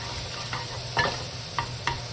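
Sausage browning in a pan, a soft continuous sizzle with a few brief stirring scrapes, close and fairly quiet, no voices.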